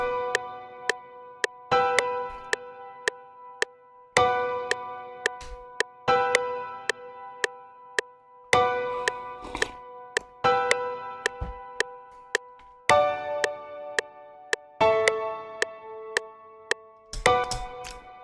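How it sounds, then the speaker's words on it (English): Chill house chord progression played on a synth in FL Studio, a series of sustained chords changing every couple of seconds with a crisp tick marking each beat, clean and isolated. "All right, so the full chord progression is going to sound like this."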